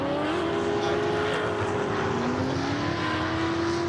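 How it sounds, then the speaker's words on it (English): Drift cars racing at GingerMan Raceway during a GRIDLIFE Midwest festival drift session, engines droning loud and continuous with rising and falling pitch as they sweep around the track. "These cars are so loud."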